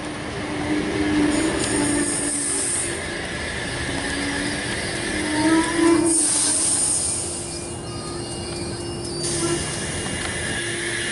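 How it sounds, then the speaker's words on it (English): A Sydney Oscar set H1 electric train stands at platform 1 on a Central Sydney service, and its wheels squeal in high, sustained tones over a low rumble. Brake hiss and motor whine rise and fall at close range. "Oscar set H1 is now departing platform number 1, Central Sydney Terminal service."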